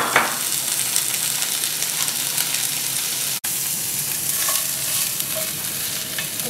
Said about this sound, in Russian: И также слегка пассирую теперь лук и морковь.